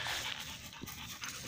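A farm dog pants steadily and rapidly close by, a soft breathy rasp repeating through the whole short moment with no talking over it.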